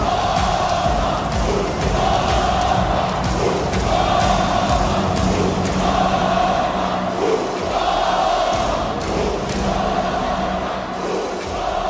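Loud, sustained roar of a large wrestling crowd at a WWE Night of Champions event during the King of Win Tournament Finals, with rhythmic chanting swells rising and falling throughout.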